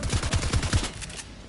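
Assault rifle fire in a shooter video game, about four loud evenly spaced shots in a quick burst followed by a fading tail and quiet background.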